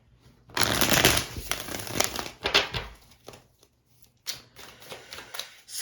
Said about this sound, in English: I'm going to shuffle a little bit more while we're live in your energy